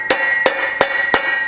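Four evenly spaced hammer taps on a pipe driving a trailing arm bushing into a Chevy or GMC truck, sharp metallic ringing strikes close up with a steady tone lingering between them.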